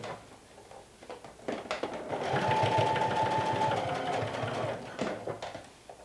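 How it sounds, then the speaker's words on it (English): A sewing machine runs a long basting stitch, a quick rhythmic patter that starts after a few light clicks, runs steadily for a few seconds close by, then slows and stops with a few final taps. "So I'm using a long stitch length just to baste this"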